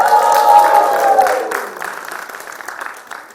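An audience at a stand-up comedy set during a conference claps and cheers in a loud burst that fades into scattered applause over a few seconds.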